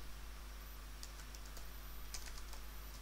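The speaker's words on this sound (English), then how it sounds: "So we have to type" A computer keyboard is tapped in a few short bursts of light clicks over a quiet background hum, faint and close, with no speech.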